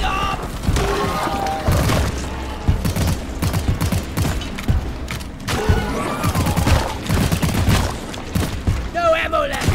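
Assault rifle fire in Deep Rock Galactic, loud rattling bursts with booms and thuds mixed in, dense and near through the whole stretch, while a voice speaks in between.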